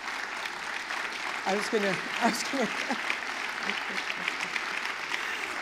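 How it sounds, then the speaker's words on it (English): Steady applause from a crowd fills the clip, with someone talking over the clapping in the middle. "please join me in applauding"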